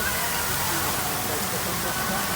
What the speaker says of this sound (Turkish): Burası da şelalenin olduğu, fiskelerin olduğu bir alan.